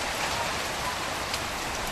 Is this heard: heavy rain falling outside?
yes